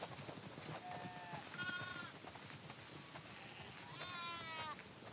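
Several sheep bleat in The Last of Us Part II, with a few distinct wavering calls over a quiet outdoor background.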